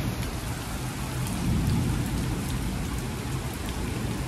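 Heavy rain and thunder during an Australian hailstorm, a dense steady roar of rain on surfaces with low rumbling swelling around the middle, loud and continuous with no voices.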